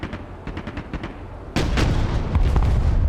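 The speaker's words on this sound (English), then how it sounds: "Tank, open fire!" Tank cannon fire in the military strategy video game Broken Arrow, a rapid patter of distant gunfire giving way to a loud, booming barrage of heavy shots and rumbling impacts.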